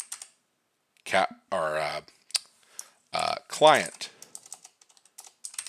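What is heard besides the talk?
typing on a computer keyboard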